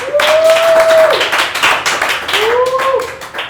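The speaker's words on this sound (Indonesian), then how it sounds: "Tepuk tangan kali teman-teman, tepuk tangan." A small group claps hands in a short burst of quick, steady applause lasting a few seconds, with a whistle-like tone rising and falling over it.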